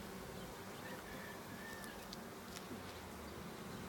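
Honeybees from a three-pound package droning steadily around an opened beehive during an inspection, a constant close hum with no voices.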